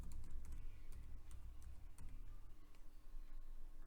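Fingers tapping out a password on a computer keyboard, a quick irregular run of close, crisp key clicks over a low background hum.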